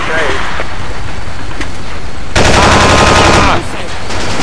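Rapid bursts of automatic gunfire in the Battlefield video game, loud and dense, with a heavier barrage in the second half and game noise throughout.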